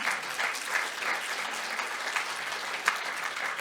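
An audience applauds at a talk on a healthy, prosperous life on a sustainable planet, a steady wash of many hands clapping at moderate distance for several seconds, without speech.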